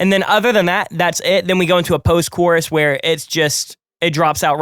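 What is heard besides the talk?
No distinct noise like a dog, phone or traffic.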